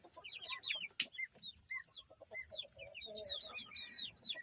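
Hens cluck and chatter in a busy, overlapping flurry close by, just let out of a postal basket, with one sharp knock partway through and a steady high whine in the background.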